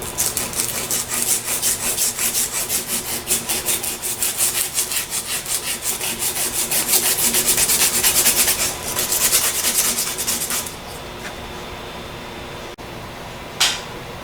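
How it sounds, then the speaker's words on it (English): A part from a Denso internal fan is sanded by hand with 80 grit sandpaper, producing rapid, rhythmic rasping strokes, loud and close, that slow and then stop near the end, leaving a faint hum and a single late scrape. "This is a piece of 80 grit sandpaper."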